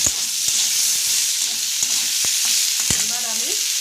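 Tomatoes and potatoes frying in oil in a pan, with a continuous close hiss of sizzling and a few sharp scrapes of stirring spaced through it.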